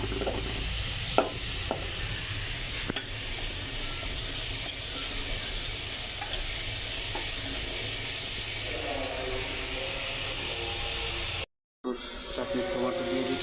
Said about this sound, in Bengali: কচুর শাক পাক করতেছি